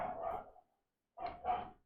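Dogs barking outdoors at a nearby house, two or three sharp barks with a brief silent gap between them, moderately close and clear, no talking over them.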